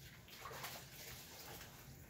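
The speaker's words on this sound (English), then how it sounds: "let me rinse my hands" Hands rinse under a running tap, a steady faint rush of water with soft splashing throughout, quiet and close, no talking.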